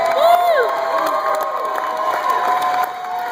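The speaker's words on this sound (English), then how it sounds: "I want you to make some noise for Jose Mangan." A large crowd at a live comedy roast cheers, whoops and shouts in a loud, dense roar, with high-pitched yells rising over the mass of voices and the noise easing slightly at the end.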